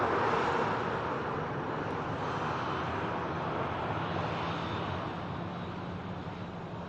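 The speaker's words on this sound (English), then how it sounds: "Nice touchdown from the Dash 8 of Luxair" A Luxair Dash 8 turboprop touching down at Manchester Airport, heard as a steady, broad roar of engine and airflow that holds through the landing and slowly eases off, fairly distant and without voices.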